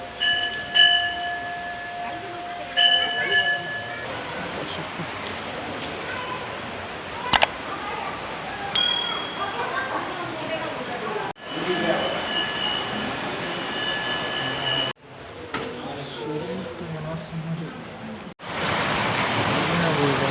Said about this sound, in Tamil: தண்ணி சூப்பராக போகுது